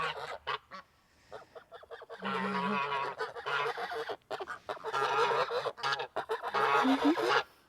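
Several geese honk loudly on a farm in spring, with short isolated calls giving way to long bursts of overlapping, insistent honking from a close flock.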